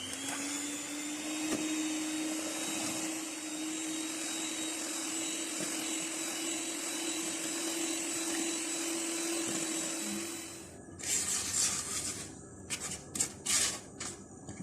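An electric beater whipping butter and sugar for a cake: a steady, high-pitched motor whine runs for about ten seconds, then it stops and gives way to intermittent scraping and clattering in the bowl.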